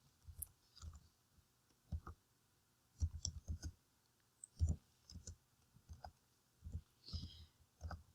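Calculator keys are pressed to enter grades into a list, giving soft, close plastic clicks in small uneven clusters with short pauses between, quiet and with no talking.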